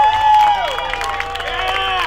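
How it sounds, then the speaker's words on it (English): Crowd at the Miami Custom Cars and Trucks Show cheering and applauding for a winner, with whistles and loud voices over clapping, under a strong tonal whine throughout. "big round of applause for Frank."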